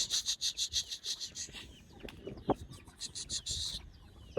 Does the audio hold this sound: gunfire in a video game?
no